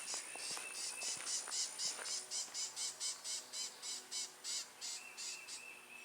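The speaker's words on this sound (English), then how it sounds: "Can you hear the birds and the bees?" Crickets chirp in a rapid, pulsing rhythm outdoors, the regular trills repeating steadily at moderate volume, with faint bird calls mixed in.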